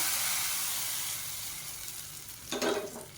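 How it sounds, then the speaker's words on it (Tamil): Mustard seeds, cumin, curry leaves, dried red chilli and asafoetida tempering in hot oil for banana stem and moong dal kootu, a steady soft sizzle and hiss with a brief louder spattering burst near the end. "இப்போ அதில் கடுகு சீரகம் கருவேப்பிலை வரமிளகா பெருங்காயம் போட்டு தாளித்ததை இப்போ அந்த கூட்டில் சேர்த்துக்கலாம்"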